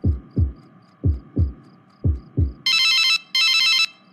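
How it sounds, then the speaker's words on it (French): A phone rings in two long electronic bursts after several soft, thumping heartbeats, with a faint steady hum underneath. "Mon téléphone sonne."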